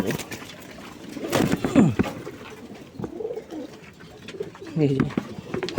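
Raj golla pigeons at a loft in Singair, Manikganj, give low, throaty coos in a couple of rolling bursts, with soft fluttering and faint chirps between them and a quiet voice now and then in the background.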